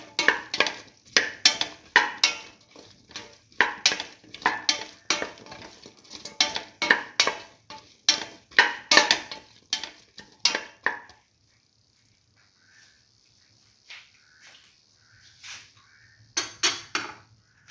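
A spoon stirring salted eggplant and mung bean stew in a pot, with rhythmic scraping and clinking strokes for about eleven seconds, then quiet with a few faint sounds and a brief final burst of stirring.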